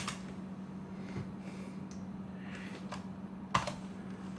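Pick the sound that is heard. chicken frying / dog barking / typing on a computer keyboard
typing on a computer keyboard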